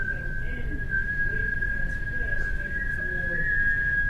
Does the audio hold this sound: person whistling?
yes